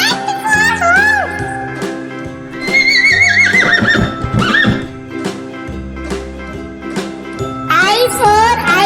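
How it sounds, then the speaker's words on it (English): A horse whinnies loudly in a children's cartoon, with quavering neighs at the start, middle and end over a backing music loop, along with clip-clop hoofbeats and a jingling tinkle. "H for horse."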